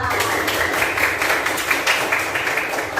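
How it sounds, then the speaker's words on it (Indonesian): A classroom of students clapping hands during a guidance lesson, a steady, close patter of many claps with light rhythmic accents and no talking over it. "Tepuk tangan untuk kita semua."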